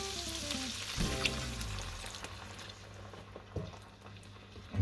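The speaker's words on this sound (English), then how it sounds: "So we're just adding the vegetable stock." Vegetable stock poured into a hot oiled pan for a macaroni cheese sauce gives a loud, close sizzle with bubbling, a strong hiss that stays steady and slowly eases, with some stirring clatter.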